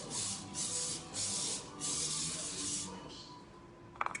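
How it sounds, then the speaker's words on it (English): Several short hissing bursts of olive oil cooking spray onto a baking sheet, each about half a second, coming in a steady sequence up close, ending with a few soft clicks. "And spray it with olive oil."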